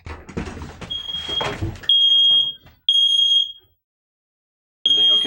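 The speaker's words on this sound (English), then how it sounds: "That's a smoke alarm." A smoke alarm goes off indoors while a player is gaming, giving loud, shrill, sustained electronic beeps in repeated bursts with short gaps. Brief talk and game sounds come before the first beep, and the alarm sounds alone after that.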